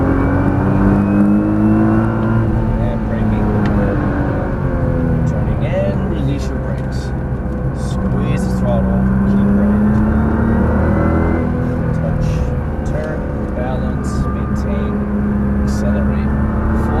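A Nissan GT-R accelerates around a race track at Las Vegas Motor Speedway, its engine droning and rising steadily from inside the car while an instructor talks over it.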